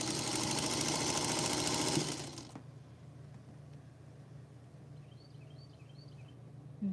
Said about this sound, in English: You can hear the cars driving by outside.